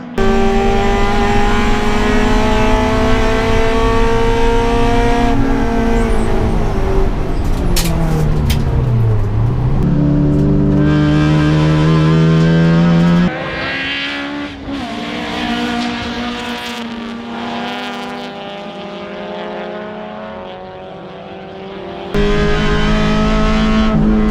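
Improved production race cars screaming past at Baskerville circuit, loud engines rising and falling through gear changes as cars overtake and pass close by, with a quieter stretch before another car roars in.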